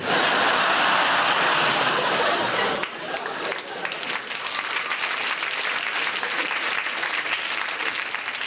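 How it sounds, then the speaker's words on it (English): Studio audience at a comedy show clapping loudly in a dense, sustained burst that drops slightly in intensity partway through and continues as steady applause with some chatter. "Bless you for clapping"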